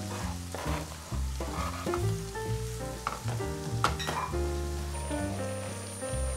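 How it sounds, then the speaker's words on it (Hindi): Tadka of tempered spices sizzling and frying in a pan for sarson da saag, a steady close crackling hiss with bursts of spattering and a stirring sound, nearly free of talk. "तड़का बना रहे हैं।"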